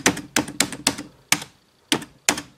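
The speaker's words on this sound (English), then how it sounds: "This keyboard, you have to like really bang on the keys in order for it to register." Keys hammered hard on a white 2007 MacBook keyboard, seven sharp, loud clacks arriving in an irregular rhythm with short pauses between, close up and with no talking.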